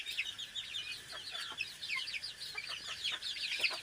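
Chicks peep in a busy high-pitched chorus while hens cluck here and there, continuous and moderately close.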